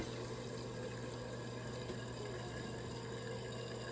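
A toilet tank refills with water after a flush with an overly long flapper chain, a steady rushing, hissing flow with a low constant hum, faint and continuous with no voices.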